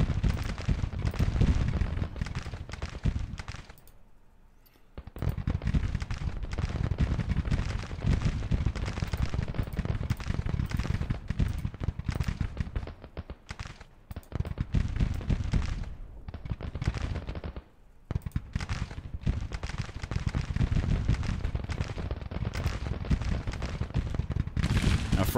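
Mississippi rifles firing in a Civil War strategy game, a continuous rattling fusillade of musketry with a brief lull around the middle and another short gap later.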